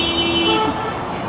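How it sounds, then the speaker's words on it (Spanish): Car horns honk amid street traffic in Santo Domingo, Dominican Republic: a loud, sustained horn blare over a dense rumble of engines and road noise. "Pienso es la ciudad donde los dominicanos usan más bocina."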